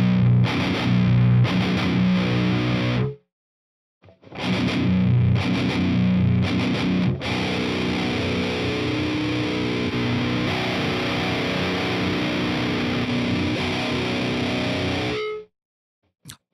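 Heavily distorted electric guitar chugs through an Audio Assault amp simulator, with loud palm-muted riffing in tight bursts, a short silent gap, then sustained crunchy chords that cut off abruptly near the end.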